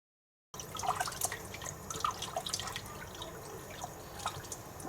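Water trickles and drips steadily into a pan while fish chukka is being cooked, a close, continuous splashing with small bubbling plinks that starts after a brief silence, with no talking.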